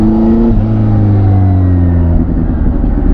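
A CFMOTO 750SR-S motorcycle with a 111-horsepower engine runs on a test ride, a loud, close, steady low rumble with a smooth, gently shifting pitch and no talking over it.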